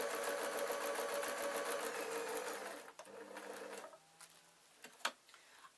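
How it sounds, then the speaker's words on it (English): Sewing machine stitching along the outside edge of gossamer fabric bags, a steady fast whirring hum for about three seconds, then stopping with a few brief clicks and handling sounds. "I'm going to sew along the outside"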